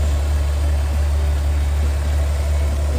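A Mk3 Golf VR6 Highline with 183,000 miles and an upgraded Mk3 exhaust idles smoothly, giving a steady, close, even engine hum with a low throb that holds level throughout and has no talk over it.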